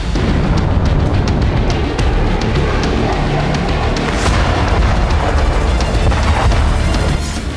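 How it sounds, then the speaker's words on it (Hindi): Loud, sustained low rumbling with repeated booms and cracks layered over one another, a barrage of distant explosions from missile strikes in the Russia-Ukraine war. "रूस के कलुगा में कई धमाके सुने गए।"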